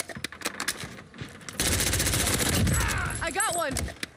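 AS VAL automatic rifle fire in a video game, quick suppressed shots at first, then a loud sustained automatic burst, with a voice speaking over the tail end.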